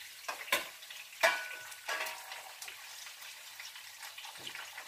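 Potatoes cook in whisky pan juices left from pork loin fillets, a gentle crackling sizzle with a few sharp spatula scrapes early on, close and quiet, no one speaking.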